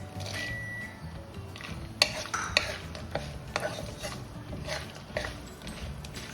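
Cashew nuts and raisins frying in a pan with dry red chili, a quiet sizzle under scattered sharp clicks and taps of a spoon against the pan.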